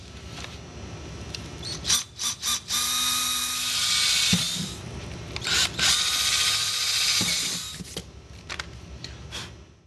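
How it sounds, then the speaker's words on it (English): A power drill whines through a motorcycle saddlebag in several bursts, close and loud, with brief clicks and handling noises between runs. "Remove the bag and drill some holes."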